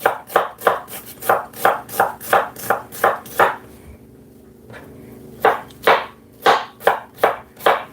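A kitchen knife chops an onion on a cutting board in quick, evenly spaced strikes, close and crisp, with a brief pause partway through before the chopping resumes.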